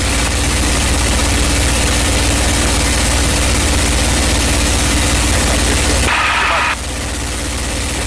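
Inside a P-51 aircraft in flight at cruise power, the engine drones loud and steady as a constant heavy roar with wind noise, dipping slightly in tone near the end.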